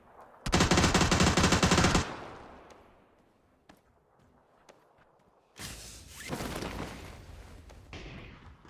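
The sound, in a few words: gunfire in the video game PUBG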